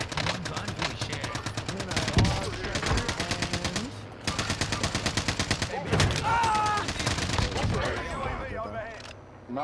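Rapid automatic gunfire from a Call of Duty Warzone match, loud and sustained in dense bursts with brief gaps, while several players talk over it.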